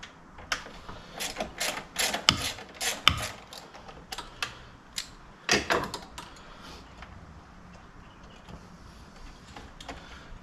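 A ratchet wrench clicks in quick bursts undoing a Torx bolt on the intake pipe of a BMW 135i engine bay, sharp close metallic clicks with pauses, then quieter rustling.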